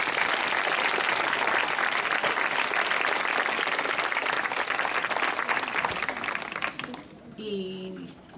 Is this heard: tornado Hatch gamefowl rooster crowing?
no